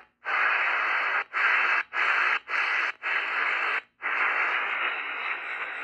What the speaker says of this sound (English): I just like finding the frequency, the noise.